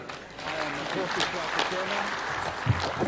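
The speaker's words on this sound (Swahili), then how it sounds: "makofi kwake tena" A crowd claps steadily for a few seconds at Moi's eulogy while a voice speaks over the applause in Swahili.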